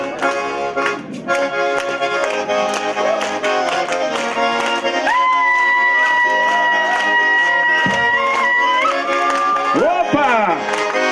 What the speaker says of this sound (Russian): А вы все хлопайте нам.